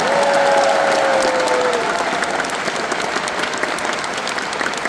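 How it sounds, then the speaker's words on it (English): An audience at the Anthrocon 2025 closing ceremony gives the convention volunteers a big, sustained round of applause, loud and dense, with a brief tonal whistle-like sound early on. "if I just get the biggest round of applause for them"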